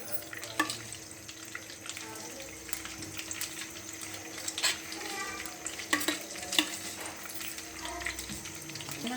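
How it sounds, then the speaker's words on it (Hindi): Desi ghee, about a kilogram, being stirred into hot sugar syrup in a pan for homemade fennel panjiri, with steady scraping, bubbling sizzle and occasional sharp clinks of the spoon against the pot, close and fairly quiet. "और अब हमने इसमें देसी घी डाल दिया है चाशनी में।"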